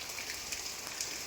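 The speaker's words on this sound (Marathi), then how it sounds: "सगळीकडे पाऊसच पाऊस आहे" Rain falls steadily in the Konkan countryside during the monsoon, a faint, even hiss of drops with small pattering accents, continuous and without voices for just over a second.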